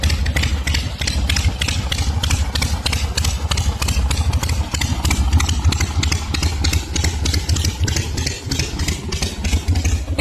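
A 1975 Honda CB550 vintage motorcycle with drag pipes runs at a steady, loud, close idle, its rapid exhaust pulses coming in an even rhythm throughout.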